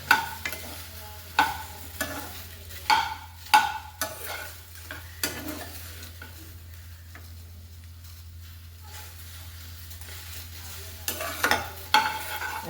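Okra sizzles while frying in a pan for a Kannada-style palya, with a spoon stirring and scraping in repeated bursts of clatter that fade to a quiet sizzle and then return near the end.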